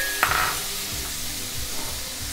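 Cabbage, onion and tomato frying in a pan give off a soft, continuous sizzle, with a brief clink near the start and a few low stirring knocks, heard close and without voices.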